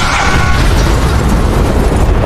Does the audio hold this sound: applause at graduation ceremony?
no